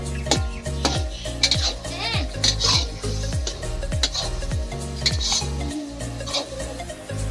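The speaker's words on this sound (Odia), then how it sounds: "ବର୍ତ୍ତମାନ ଚିଲ୍ଲି ପାଇଁ ରେଡି ଚାଲିଛି, ସୋୟାବିନ୍ ଚିଲ୍ଲି। ଏଠି ରୋଷେଇ ବି ଷ୍ଟାର୍ଟ ହେଇଗଲାଣି।" Soybean chilli being cooked in pots, with repeated metallic scraping and stirring strokes in a steady rhythm, close and fairly loud, under light kitchen clatter and faint sizzling.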